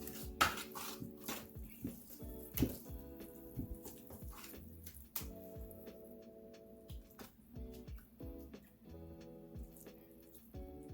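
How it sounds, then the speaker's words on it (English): Sweet potato pudding being spooned into a baking dish, soft wet scrapes and light clinks of spoon on dish repeating irregularly, close and quiet beneath faint steady background music. "I'm just gonna fill the baking dish with the potato"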